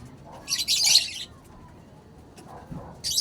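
A caged pet bird chirps in short, bright bursts, a cluster of loud close tweets followed by a pause and then a few more chirps, over faint room background.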